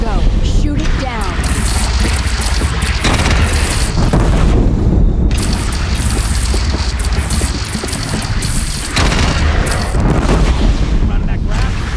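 A bridge is brought down in a massive explosion in Horizon Zero Dawn, with heavy rumbling booms and debris roaring continuously, loud and dense, while voices speak over the blast.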